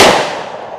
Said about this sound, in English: let's shoot at the old watermelon right there